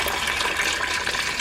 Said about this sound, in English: so I'm going to put in 6 cups of water